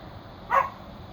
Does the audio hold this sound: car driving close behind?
no